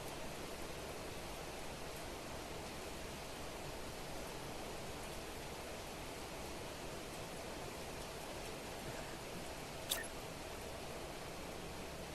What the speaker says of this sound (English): Took me a minute to realize it was raining.